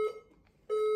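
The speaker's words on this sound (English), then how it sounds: "The fire alarm system is operated." A fire alarm system sounds loud, steady electronic tones, one beep fading out and another starting after a short gap, close and alone.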